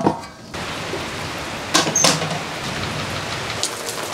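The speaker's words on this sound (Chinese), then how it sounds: "现在呢天气呢突然下开小雨" Light rain falls steadily at night as an even patter, with a couple of brief clatters partway through and no voices.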